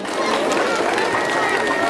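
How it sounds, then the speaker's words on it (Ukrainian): Brief, dense applause from an audience at a school anniversary ceremony, a steady wash of clapping hands filling the hall without pause. "Ваші оплески."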